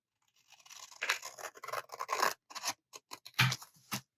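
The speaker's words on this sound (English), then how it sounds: "I'm actually going to cut this part off." Scissors snip through a paper printout in a quick series of close, crisp cuts and rustles, with short pauses between snips.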